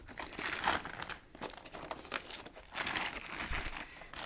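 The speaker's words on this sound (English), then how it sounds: "Take this plastic off." Plastic wrap pulled off a PS3 Super Slim console, close crinkling and crackling in irregular bursts, with a short pause in the middle and no talk.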